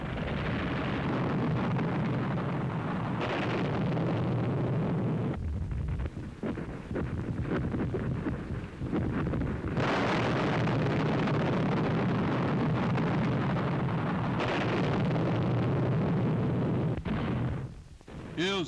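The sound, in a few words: bombs exploding on railway marshalling yards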